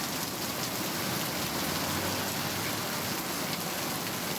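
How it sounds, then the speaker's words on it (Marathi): Heavy monsoon downpour in Navi Mumbai, a dense, even hiss of rain falling on surfaces, steady and continuous throughout with no voices. "तर नवी मुंबईमध्ये मुसळधार पाऊस झाला आणि त्यामुळे काही भाग जलमय झाल्याचं चित्र पाहायला मिळते।"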